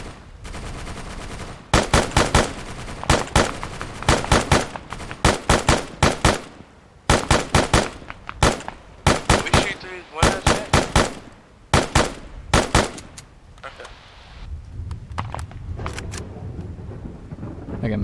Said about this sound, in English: I'll keep shooting until they come to me, I guess.